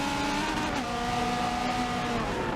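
Porsche, Lamborghini and Ferrari race cars in a video-game race roar together in a steady, sustained high engine whine with shifting tones, loud and continuous with no voice over it.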